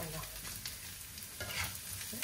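Carrots sauté in a pan, a faint continuous sizzle with occasional soft scrapes of the spatula, heard close but quiet.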